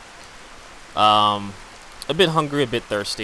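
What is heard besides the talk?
rain in the video game Skyrim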